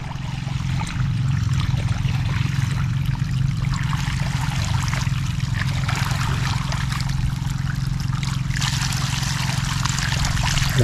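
Water trickles out in a steady, continuous flow, a close, unbroken running sound over a low rumble, with no talking.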